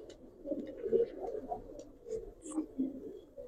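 Giribaz pigeons cooing in a loft, soft low coos repeating faintly close by while people talk quietly.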